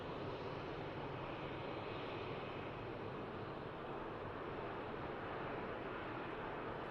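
A Ryanair jet taxiing past at Manchester Airport after arriving from Dubrovnik, a faint, even broadband engine rush with some wind noise, steady and distant with no talk.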